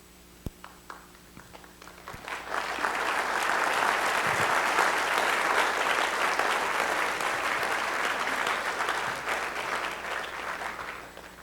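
An orientation-week audience applauds a speaker, the clapping swelling in after a few quiet seconds into a loud, dense, sustained round that holds steady before starting to thin at the end.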